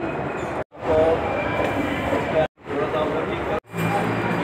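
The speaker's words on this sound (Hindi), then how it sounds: "हमने अब मेट्रो का एक मरहला क्रॉस कर लिया है" A London metro train rumbles along with a steady roaring noise, interrupted by a few abrupt silent gaps, while people talk over the din.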